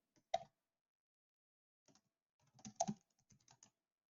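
Sparse, quiet clicks on a computer keyboard while entering C# loop code: one isolated keystroke, a pause, then a short cluster of several taps, close and dry with no talk.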